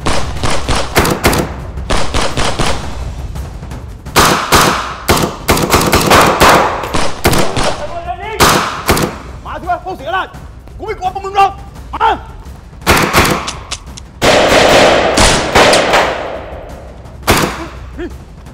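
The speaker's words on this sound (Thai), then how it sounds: "ไอ้ดำถูกยิงครับ มึงก็ยิงมันกลับไปสิวะ" Gunfire in a Thai police short film: rapid bursts of loud shots and heavy thuds come in clusters across the scene, with pauses between volleys and shouted voices mixed in.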